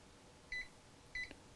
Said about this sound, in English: it should beep twice to indicate that it has found the file